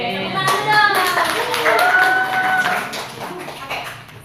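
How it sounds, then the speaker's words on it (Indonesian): Steady applause from a class of students, many hands clapping together in a dense continuous patter, with some voices and noise mixed in. "Oke, tepuk tangan dong."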